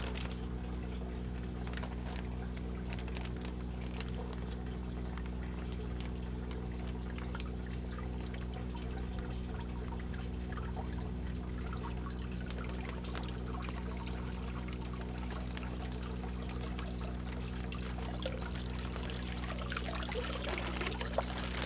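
Water trickles and pours steadily into a backyard aquaponics tank as tilapia are tipped in, a continuous close splashing flow over a constant low pump hum, with no talk.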